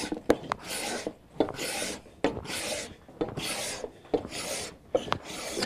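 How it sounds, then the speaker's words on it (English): Hand plane shaving down a wooden board with imperfections, repeated rasping strokes, about six of them, each a scraping swish with a soft knock at the start, close and without talk. "we used this plane to start planing it down"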